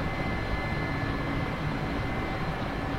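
In a flight simulator game, a helicopter's rotor spools up for takeoff as the collective rises, giving a steady, moderate mechanical hum and whir that continues evenly with no voices over it.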